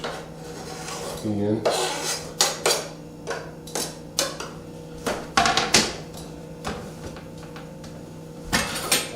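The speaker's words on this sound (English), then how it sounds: "we're going to get these onions sauteing, or cooking a little bit" Onions tip into a pot and begin sautéing for marinara sauce, with a run of scraping, rasping stirs and clanks of utensil on metal at a close, moderate level; a brief word is spoken.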